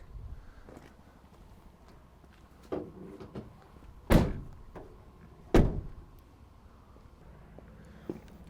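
Rear doors on a 2015 Ford Transit Custom van shut with two loud, sharp metallic thuds a second or so apart, set among softer clicks and knocks of latches and handling.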